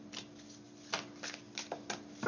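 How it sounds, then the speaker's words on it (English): Tarot cards are shuffled by hand in a series of soft riffling bursts, roughly five brisk flutters spaced irregularly over a steady background hum, with no talking. "we're gonna properly shuffle these"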